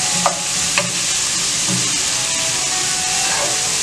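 Onions sautéing in coconut oil for a Kerala-style chicken curry, a continuous close sizzle with a few sharp scrapes and taps of a stirring utensil against the pan.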